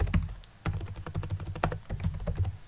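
Quick, uneven clicks of keys being typed on a computer keyboard, close and fairly quiet, with short pauses between bursts of keystrokes and no talking.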